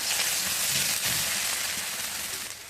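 Chopped green chillies sizzle in hot oil for a moong dal dish, a steady loud crackling hiss that fades slightly toward the end, with no voices.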